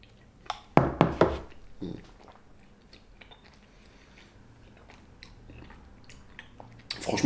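Spoonfuls of oatmeal mixed with whey protein, banana and honey being eaten: a few close, crisp bites and chewing bursts near the start, a softer one shortly after, then quiet mouth sounds and another bite at the end, with no talk.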